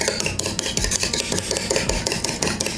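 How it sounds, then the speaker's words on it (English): Buttermilk and eggs whisked by hand with the end of a spoon in a bowl, a fast, steady rhythmic scraping and clicking that stays close and fairly loud with no voices. "Then I'm gonna whisk it. I'm using a spoon end just because it makes less noise."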